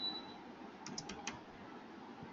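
A short run of faint computer-keyboard keystrokes while typing code, four or five soft clicks in quick succession with a sharper tap at the end, nearby and quiet.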